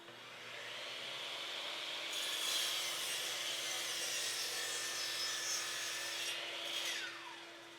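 A Bosch Glide miter saw slices through a wood board, a steady faint rasping whine with a constant motor hum underneath that rises midway and tapers off near the end.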